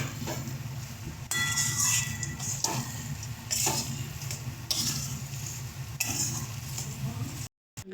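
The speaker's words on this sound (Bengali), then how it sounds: "বাদামটা দিয়ে সুন্দর করে এটাকে মিশিয়ে নেবো" Fried peanuts are stirred into a vegetable chop mixture in a pan, giving repeated scraping strokes of a utensil with light clinks and a faint sizzle, moderately close with no talk.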